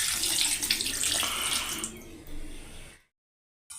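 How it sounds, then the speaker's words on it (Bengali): About a cup of water pours steadily into a fish curry of puti fish, a bright splashing rush that fades off after a few seconds into silence. "আর শেষে দিয়ে দিলাম 1 কাপ মতন জল।"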